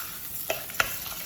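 Rice frying briefly in oil in a pan for pesto risotto: a soft, steady sizzle with two light stirring clicks, close and quiet, no voices.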